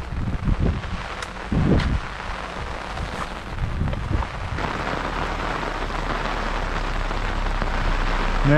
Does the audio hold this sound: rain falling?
yes